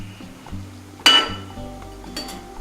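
A spoon clinks against a pot while Kerala-style vegetable stew is stirred: one bright metallic strike followed by a few lighter taps and soft scraping over a low background hum.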